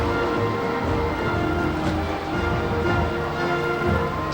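Rain falling on a rainy New Year's Rose Parade in 2006, a constant hiss of downpour blended with crowd and street noise, loud and continuous.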